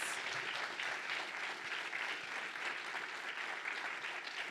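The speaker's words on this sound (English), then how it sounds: "round of applause" A conference audience at a Rust programming event in Wellington gives a round of applause: steady, dense clapping from a roomful of people, moderately loud and even throughout, with no talk over it.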